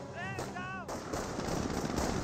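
Volksgrenadier infantry firing in the Company of Heroes video game, a rapid rattle of gunfire with overlapping shots, preceded by a brief voice.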